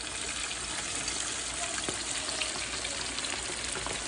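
Chicken pieces frying in shallow oil less than an inch deep, giving a steady, close, even sizzle with fine crackle throughout and no talking.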